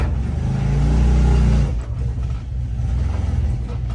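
A Gen 2 off-road vehicle fitted with an RNG clutch rumbles and revs loudly up close as it is driven onto a trailer, engine swelling then dropping back to a lower throaty idle.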